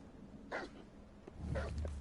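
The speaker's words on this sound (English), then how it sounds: "they trying to fight this pack of demon dogs back here" A pack of demon dogs in the Hogwarts video game barks and yips in two short bursts, faint and somewhat distant against a quiet low background hum.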